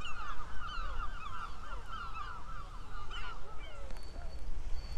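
Seagulls call around a sandstone outcrop at Ladram Bay, a chorus of overlapping honking, squawking cries over a constant low wind and surf rumble, moderately near and continuous with no talking.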